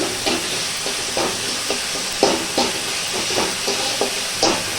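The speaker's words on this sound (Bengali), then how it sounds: "মশলা দিয়ে দিলাম ভালো করে ফ্রাই করে দিলাম" Ground spice masala frying in hot oil in a pan, a steady loud sizzle broken by repeated stirring scrapes at an irregular pace, with no talk.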